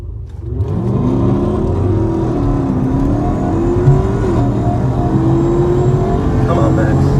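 A turbocharged 2014 Jeep SRT8 with a built motor and 82mm turbo accelerates hard in a drag race, its engine note rising and droning loudly and steadily throughout, with voices faintly underneath.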